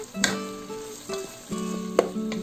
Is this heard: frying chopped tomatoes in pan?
yes